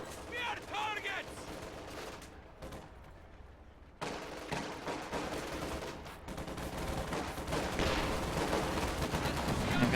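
An infantry support gun and other gunfire in a real-time strategy battle game: bursts of shots and rattling fire over a dense, rumbling battlefield din that grows louder toward the end.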